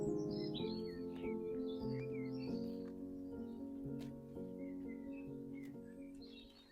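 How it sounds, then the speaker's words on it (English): Birds sing and chirp in the English countryside on a sunny spring day, bright repeated calls scattered at a moderate distance over a steady low hum of music-like tones. "Birds singing."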